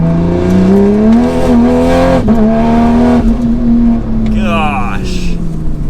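A 600 wheel-horsepower wide-body Toyota Supra accelerating on a street, a loud steady engine drone with rising exhaust note heard from inside the car, someone talking over it throughout.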